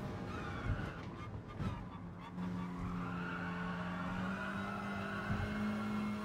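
Race car engine in Gran Turismo Sport easing off the throttle: a steady whining engine tone settles and holds after some brief tire and contact noises, moderately quiet and without talk.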